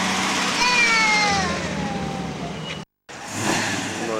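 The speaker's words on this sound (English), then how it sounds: "Nice red Pontiac." Red classic Pontiac passing at an outdoor car rally, its engine a steady rumble rising then fading, with a brief dropout before the noise resumes.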